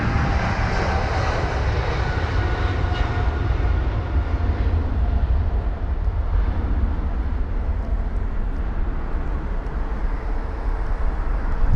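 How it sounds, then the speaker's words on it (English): An Air Canada Boeing 777-300ER jet flying to Toronto gives a loud, steady, broadband engine roar that stays constant throughout, with no voices. "This is the Air Canada flight to Toronto on board the 777 300ER."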